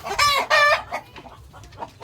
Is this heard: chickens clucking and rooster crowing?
yes